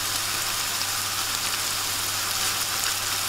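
Lamb pieces, salted and lightly peppered, sizzle hard and steady in a hot pan as a washed dried ingredient goes in, a close, even crackling hiss with no talking.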